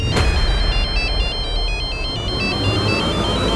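A phone rings with a repeating electronic melody of short high beeps, loud and continuous against faint background noise.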